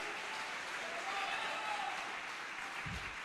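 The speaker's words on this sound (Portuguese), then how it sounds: "Pode aplaudir ao Senhor." Congregation applauding during a church sermon, a faint, even patter of many hands clapping at a distance, steady for a few seconds with a brief low thump near the end.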